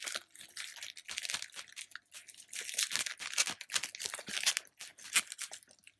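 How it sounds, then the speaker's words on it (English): Plastic packaging for Bluedio T5 wireless Bluetooth headphones is cut open, giving close, uneven bursts of crinkling, crackling and tearing that come and go. "I have to cut through the side."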